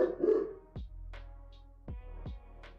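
Several sharp dog barks at close range, spaced irregularly with short gaps, over a faint low hum, after a brief muffled voice at the start.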